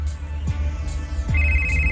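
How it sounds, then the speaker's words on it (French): A mobile phone ringtone plays nearby in a quiet room, a short repeated electronic tone with a pause between rings, then a sustained higher tone toward the end. "Et le téléphone de Nathalie va sonner."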